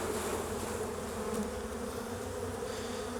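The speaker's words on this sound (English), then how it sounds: "So shake these bees off." Dense cloud of honey bees droning steadily after being shaken off a hive frame during a swarm-prevention inspection, close and continuous with no pauses.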